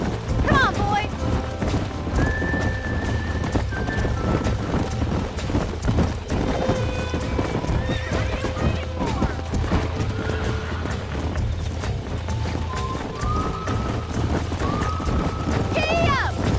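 In the video game Red Dead Redemption, horses gallop in a steady thudding clip-clop, with occasional neighs rising over the din of the game. Rumbling background noise and other game sounds mix in throughout.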